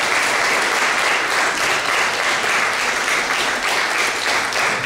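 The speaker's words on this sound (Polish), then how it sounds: "Także brawa dla postawy." A concert audience at a carol concert for a regional song and dance ensemble gives loud, dense, sustained applause, many hands clapping evenly throughout with no letup.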